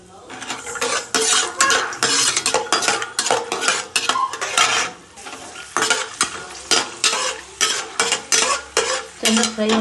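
Peanuts frying in hot oil in a pan while a spoon stirs them for rava upma, with sizzling and repeated scraping strokes of the spoon against the metal, loud and close.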